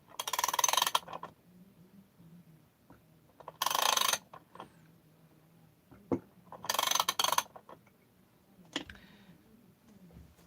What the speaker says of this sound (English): you can use a ratcheting wrench for this and just slowly bring the case halves together